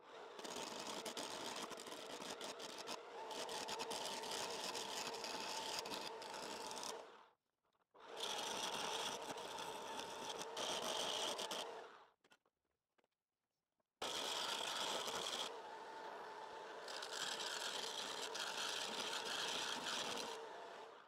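Wood being turned on a Parkside PDM 600 600 W wood lathe, a loud, steady whirring and scraping of the tool against the spinning workpiece in three long bursts separated by brief silent pauses.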